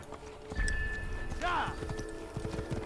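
Hooves of a horse clip-clop at a gallop in the Assassin's Creed video game, a steady rapid beat close by, with a short whinny partway through and a voice talking over it.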